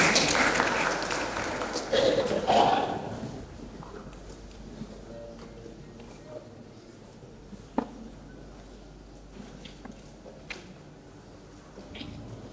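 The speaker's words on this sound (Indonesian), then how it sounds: "boleh kita iringi dengan tepuk tangan yang paling meriah" Audience applause welcoming a presenter at a program launch event, a loud burst of clapping in the first few seconds that quickly dies away, leaving a quiet room with scattered faint knocks and shuffles.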